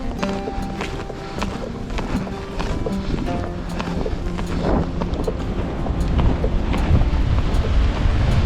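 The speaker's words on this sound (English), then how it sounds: "Wind is whipping today, that is for certain." Strong wind roars steadily through snowy Adirondack woods, a dense, loud rush that never lets up, with scattered small knocks and rustles mixed in.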